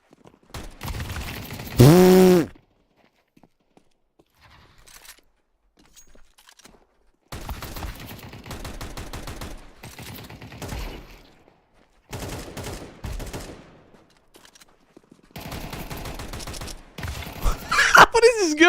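Video game gunfire comes in several rapid, crackling bursts of shots separated by quiet gaps, loud and close, with a short high-pitched effect near the start and a voice briefly calling out near the end.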